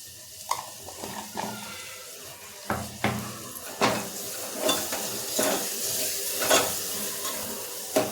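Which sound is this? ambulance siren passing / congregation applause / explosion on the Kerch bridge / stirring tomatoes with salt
stirring tomatoes with salt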